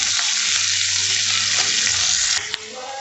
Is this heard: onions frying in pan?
yes